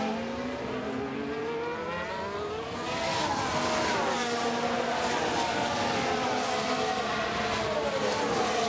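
Race cars roaring past in F1 Manager 23, engines revving and pitching up and down as they pass, a louder car sweeping close from the middle onward with a faint voice underneath.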